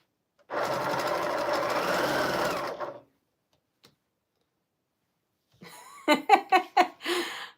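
A sewing machine stitches a quilt in one steady, close run of a few seconds, then falls silent before a short burst of voice near the end.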